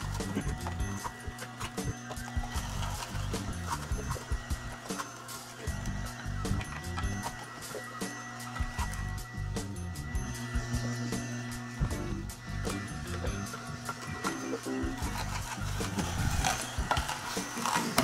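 A juicer grinds hard ginger together with softer produce in a steady, continuous mechanical churn with rapid rhythmic clicking and rattling throughout.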